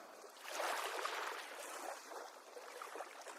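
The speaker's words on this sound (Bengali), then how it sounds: "নৌকার বৈঠা ঠেলে তারা এগিয়ে যেতে লাগলো জঙ্গলের দিকে" Oars push a boat through water toward the dark Sundarbans jungle at night, giving a soft, steady swish and gurgle of disturbed water that stays faint and continuous, with no voices.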